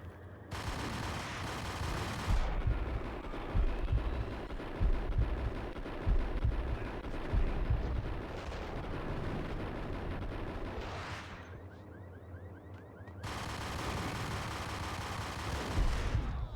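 Repeated shotgun blasts and heavy gunfire from a firefight in the game Max Payne, loud and dense across the whole stretch, with a brief lull before another burst of shooting.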